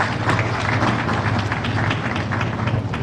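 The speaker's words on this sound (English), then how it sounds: "Another round of applause for him, please." An audience at a business forum in Kwahu, Ghana, gives a steady, close round of applause that lasts the full few seconds, with dense overlapping claps.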